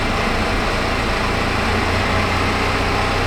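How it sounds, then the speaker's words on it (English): A steady, loud car engine idle runs lean, continuously, with a rough, uneven lope in its low rumble, with no talking. "The engine's running super lean."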